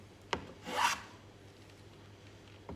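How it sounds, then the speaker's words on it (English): A hand plane shaves the edge of a timber wood float, one short faint rasping stroke with a soft tap before and after, in a quiet room. "You may be planing into grain."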